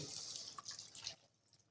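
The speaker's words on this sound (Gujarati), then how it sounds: "તો હવે આપણે એમાં થોડું પાણી નાખીશું." Water from a mixer jar is poured into a simmering gravy for dudhi kofta, a short, soft splashing pour up close that stops abruptly after about a second.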